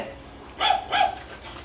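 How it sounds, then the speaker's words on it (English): Two quick, high, yappy barks sound close by in rapid succession, with quiet background before and after. "It's a doggy."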